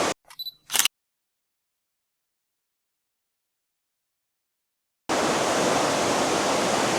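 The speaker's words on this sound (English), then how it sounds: "This is one of probably the prettiest waterfalls." Spruce Flats Falls in the Great Smoky Mountains gives a steady, loud, hissing roar of falling water that starts abruptly after a few faint clicks and a long silence, then continues evenly to the end.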